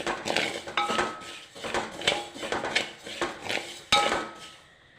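Vermicelli is mixed with salt in a bowl for semiya puttu, with a spoon clinking and scraping against the bowl in quick, uneven bursts, close up and fairly loud.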